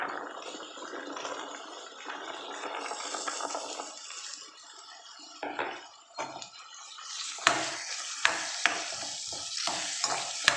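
Chopped vegetables for sweet corn fried rice hit hot oil in a pan, a loud hiss fading to a steady sizzle, then a series of sharp metallic stirs and clinks, close and without talk.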